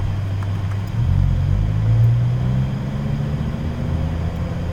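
A 2018 Lamborghini Huracan Performante rumbles at low speed as it pulls away in first gear, its deep, steady engine note swelling slightly and then settling. The sound is close and continuous, with no talking.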